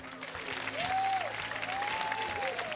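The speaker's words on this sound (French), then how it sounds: "Tous ceux qui ne sont pas d'Aix-en-Provence applaudissent quand même" A studio audience on a TV game show applauds, steady clapping throughout with a host's voice speaking over it.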